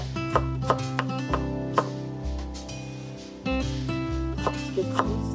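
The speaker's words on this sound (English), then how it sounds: "I'm gonna chop ginger. This is young ginger." A knife chops young ginger on a cutting board, sharp close taps in an irregular rhythm set against steady background music.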